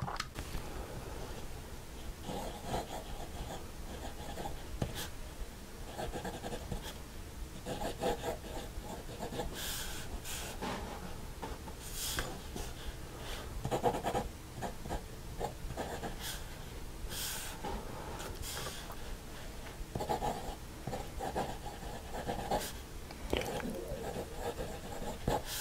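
A Live In You MiTu fountain pen, machined for writing with the cap posted, scratches and rubs across paper in a steady stretch of close strokes, with no talking.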